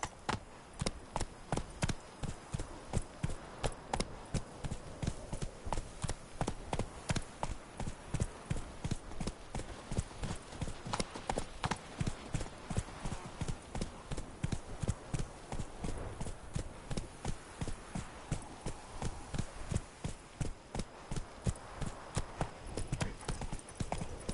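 Roach, the horse from The Witcher 3: Blood and Wine, gallops steadily, a fast continuous run of hoofbeats close by throughout, with no talk over it.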